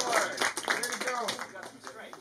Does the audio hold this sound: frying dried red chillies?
no